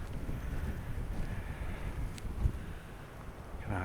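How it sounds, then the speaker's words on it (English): Steady wind buffets the microphone on an outdoor stairway near Dundee, a low rumbling roar with gusty swells throughout and no voices. "It's actually windy on this bit now, we're in the wind tunnel."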